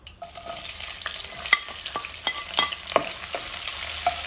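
Onions fry in a pan with a loud, close sizzle, punctuated by repeated scraping stirs and clinks of a spoon against the metal, with no voices.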